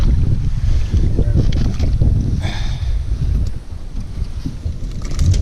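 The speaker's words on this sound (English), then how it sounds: "It's really windy out here." Steady, loud wind buffeting outdoors on a lake with rumbling gusts and a faint hiss of water throughout.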